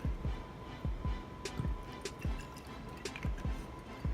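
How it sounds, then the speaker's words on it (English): Rice vinegar pours into a garlic marinade in a quiet series of close, soft glugs and drips with a faint steady hum underneath. "I'm gonna be adding some rice vinegar."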